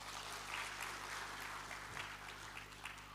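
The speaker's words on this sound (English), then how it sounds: "Please give him a clap." Faint, steady applause from an audience at a formal government event, a soft continuous wash of many hands heard from a distance with low background hum.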